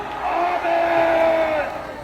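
A large crowd shouting together at a mass rally in Gwanghwamun on August 15, a sustained roar of many voices swelling loudly at a distance for a couple of seconds.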